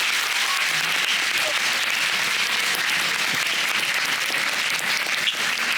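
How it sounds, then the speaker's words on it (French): Audience applause at a school eloquence contest, a full, steady wash of many hands clapping at close range, sustained at even loudness from start to finish. "Donc vous pouvez vous applaudir."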